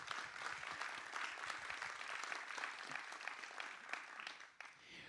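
An audience at a panel discussion on creative uses of artificial intelligence applauds the panelists, a steady, fairly faint wash of clapping lasting several seconds before tapering slightly.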